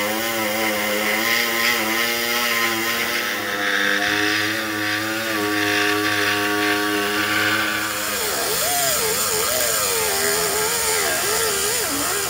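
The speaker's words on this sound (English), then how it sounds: "Now you can take your saw and you can cut all that material out of there." A power saw cuts out damaged metal base rail plate material on a van trailer, a loud, steady, harmonic whine holding for about eight seconds before the pitch wavers and shifts as the blade works through the steel.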